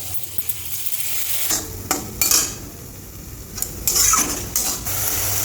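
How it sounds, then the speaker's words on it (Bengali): Spice paste sizzling with capsicum in a pan, a steady fry punctuated by several louder bursts of stirring and utensil scraping against the pan, close and without talk. "একসাথে মশলার সাথে ক্যাপসিকামটাও ভাজা ভাজা হয়ে যাবে।"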